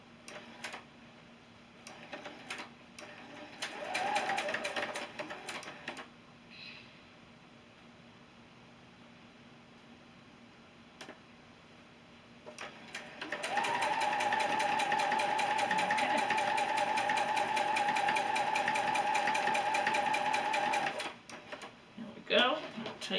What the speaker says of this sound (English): we're going to start sewing these rows together